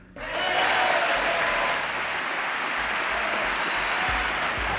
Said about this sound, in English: So this is how liberty dies. With thunderous applause.